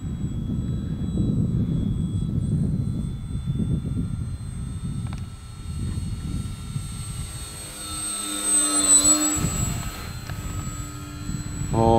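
A Scorpio Miss Bipe 1.08 m vintage RC biplane flies on its maiden flight in gusty wind, its engine droning steadily at a distance beneath heavy low wind rumble across the whole stretch.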